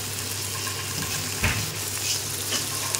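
Mutton curry frying in a pan, a steady close sizzle with faint stirring and a brief clatter midway, no talking.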